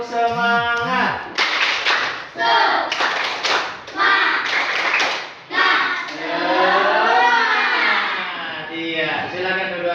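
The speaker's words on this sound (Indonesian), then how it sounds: "Tepuk semangat." Schoolchildren in a classroom doing a rhythmic spirit clap, sharp patterned bursts of hand claps in quick groups alternating with loud chanted voices, close and energetic.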